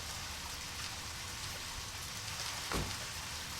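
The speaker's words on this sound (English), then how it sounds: "Guess it's raining." Steady rain falls in the video game Deadly Premonition, a dense, even hiss of drops with a brief low whoosh near the end.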